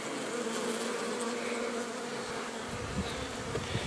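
A dense, steady hum of many honey bees buzzing close by, continuous and full, with no voices.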